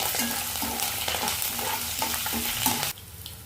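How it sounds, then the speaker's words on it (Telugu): Mustard seeds, cumin, chana dal, urad dal and dried red chillies fried in hot oil for a tempering, a loud continuous crackling sizzle with rhythmic stirring clicks, cutting off sharply near the end. "పోపు కోసం కొంచెం ఆవాలు, జీలకర్ర, శనగపప్పు, మినపప్పు, ఎండుమిర్చి ఇవన్నీ వేసుకొని ఒకసారి బాగా ఫ్రై చేద్దాం"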